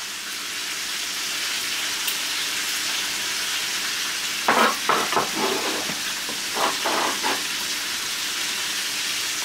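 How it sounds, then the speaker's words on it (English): Garlic goes into a hot pan of sizzling pork chops, a steady loud frying hiss throughout with a burst of crackling spatter and stirring midway, no talking. "Now all this garlic flavor, we're going to add that right on in."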